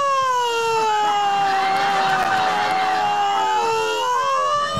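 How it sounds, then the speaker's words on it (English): An ambulance siren wails loudly and close, with rising and falling tones sustained throughout without a break. "Either an ambulance is on the way."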